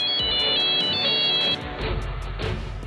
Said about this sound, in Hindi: फोन बजने लगा